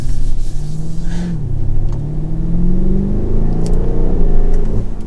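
A 2022 BMW Alpina B7 xDrive revs up and accelerates, its exhaust note climbing steadily in pitch with a deep, throaty rumble throughout.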